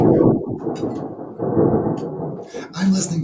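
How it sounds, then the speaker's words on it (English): Thunder rolling through a thunderstorm: a deep, continuous rumble that swells and fades over a few seconds, with no other sounds on top. "I'm listening to thunder."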